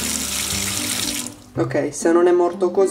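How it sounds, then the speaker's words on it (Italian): Hot water runs hard from a kitchen sink tap, a steady rushing stream. A voice speaks over it. "Adesso apro l'acqua calda a manetta,"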